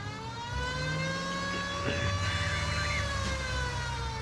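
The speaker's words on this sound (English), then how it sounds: "turn on the siren" Police car siren in the video game L.A. Noire, a steady loud wailing tone sustained throughout with engine rumble beneath.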